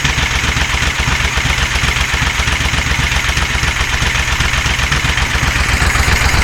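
A motorcycle engine fitted with a freshly rebuilt Amal 930 carburetor idles steadily and close by, a continuous low, even throb with light mechanical clatter and no voices throughout.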